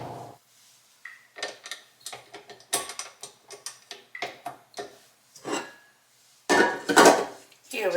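Batter of oil and all-purpose flour for glazed cavacas (puff volcanoes) being mixed in a bowl, giving a run of clinking, tapping utensil strokes, close and moderately loud, with short pauses between bursts.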